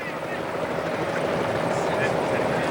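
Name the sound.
helicopter filming cycling race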